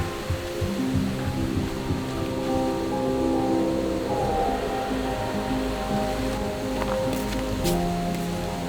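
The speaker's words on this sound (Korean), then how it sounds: "아 물소리 진짜 힐링이다" Water flows at an emerald pool in Thailand, a steady close rushing and splashing wash that continues throughout with no talk.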